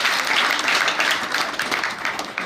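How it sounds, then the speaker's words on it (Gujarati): Applause from an audience at a school children's science exhibition, welcoming school staff and pupils: dense, steady clapping from many hands, loud and continuous throughout. "બાળકોને તાળીઓથી વધાવો"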